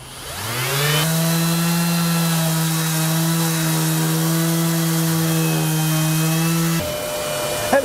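A Makita XGT 40V power sander, connected to a dust extractor that switches on and off with it, runs steadily at close range on rusty metal, a loud sustained droning hum that spins up, holds for several seconds, then shifts pitch as it winds down.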